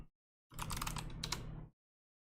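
Keys clatter on a computer keyboard as a quick note is typed, a short dense burst of close clicks lasting about a second, quiet and alone.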